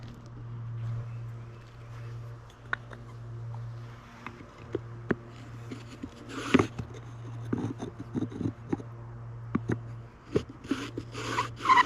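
A friction-fire drill works into wood with a repeated rubbing, rasping scrape, back-and-forth strokes building into sharper grinding bursts over a low steady hum, close up and with no talking.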